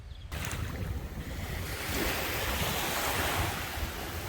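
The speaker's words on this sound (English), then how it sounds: "The waves are really coming in now" Ocean waves break and wash in at Poipu Beach on Kauai, a loud continuous roar and surge of surf mixed with gusty wind buffeting the microphone.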